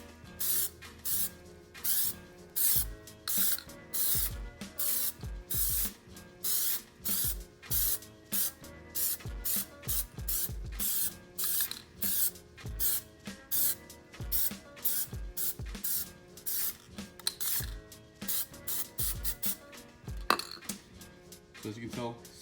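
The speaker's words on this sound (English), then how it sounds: "Spray it very lightly, and then make sure after each time you spray it, you clean off the nozzle a little bit." Plasti Dip sprays from an aerosol can onto car wheels in many short, hissing bursts with brief pauses between them, close and loud, with a faint clink here and there.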